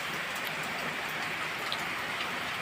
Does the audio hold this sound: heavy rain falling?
yes